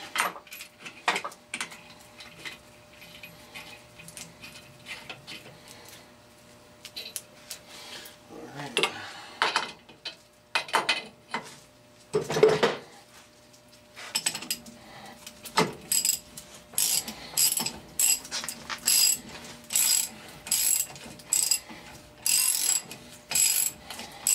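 Pulley being forced onto a new power steering pump for a 1990 Mustang LX 5.0 with an installer tool, heard as intermittent metallic clicks, ratcheting and clanks in short bursts, close and fairly quiet with pauses between.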